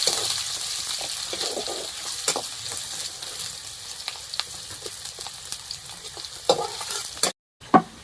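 Chopped onion and green chili frying in hot oil with ginger and garlic, a steady close sizzle broken by stirring scrapes and clinks of a utensil against the pan, no voices.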